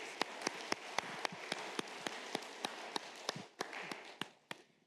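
A church congregation at a Sunday worship service in Cologne claps together, a steady rhythm of sharp, evenly spaced handclaps sounding close and fairly faint over a soft room wash, with no talking.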